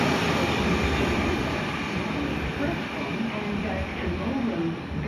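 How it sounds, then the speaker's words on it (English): A V/Line train passes through West Footscray station with a loud, continuous rumbling roar of wheels and engine, close by and sustained throughout, with faint voices in the background. "V-line train."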